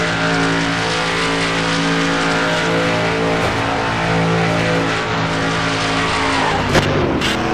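The number 6 race car crashes at a speedway, heard onboard: a loud, sustained engine drone with harmonic whine, tire scrub, and a sharp impact thump near the end.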